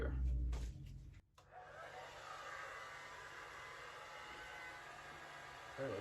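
A hair dryer blows steadily on poured acrylic paint across a large 24x36 canvas, a continuous close whooshing airflow that starts after a short burst of handling noise and keeps running to the end.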